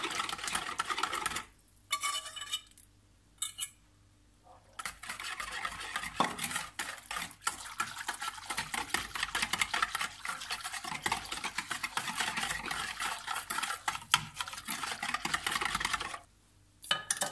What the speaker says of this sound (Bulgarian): И сега ги смесваме разтопеното масло с мляко. През това време, докато изсипваме маслото, бъркаме.